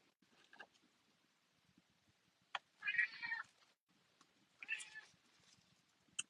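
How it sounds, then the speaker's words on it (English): A cat meows softly a few times with quiet pauses between, close by, with faint clicks and rustles in a quiet room. "down here meowing at me"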